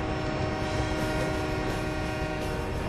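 A train rolls along in the video game Sunset Overdrive, a steady broadband rumble with sustained horn-like tones held over it throughout, loud and continuous with no voices.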